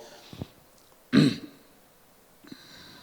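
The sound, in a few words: throat clearing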